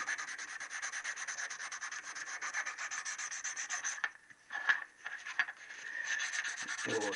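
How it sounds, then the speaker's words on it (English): Steady back-and-forth rasping of 1000-grit abrasive paper scrubbing rust from a Triumph T120R engine part, close and continuous with brief pauses near the end, no talking. "I'm going to use 1000 grit and take the rust off."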